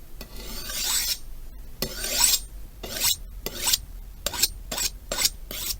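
An antique knife is drawn repeatedly along a sharpening steel, rasping strokes that start slow and quicken into a steady, rhythmic series.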